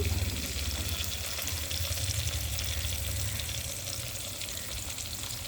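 Chili, capsicum and chopped tomato frying for pasta in a pan, a dense, continuous sizzle heard close up with a low rumble underneath.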